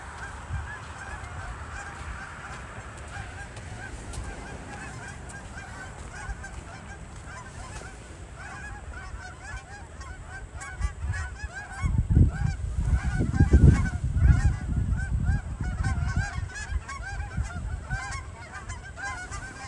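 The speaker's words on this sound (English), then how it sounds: "The geese are heading home for the night, I guess." A flock of geese honks as it flies past on a snowy evening, scattered calls at first, then a louder, denser burst of honking midway before the birds fade off.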